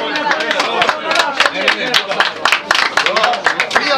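Guests at a village wedding in Bela Zemlja near Užice clap together in a dense, uneven burst of close applause, mixed with voices calling out over it.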